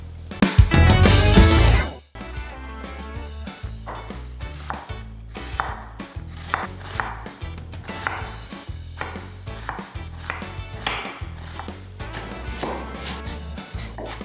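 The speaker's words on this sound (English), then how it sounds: "Let's get chopping." Knife chopping vegetables such as tomatoes on a cutting board for homestyle chili, steady rhythmic taps over background music after a loud opening burst.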